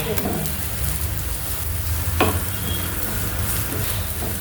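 A tomato pancake fries in a hot pan with a loud, continuous crackling sizzle, and a single utensil clink cuts through midway.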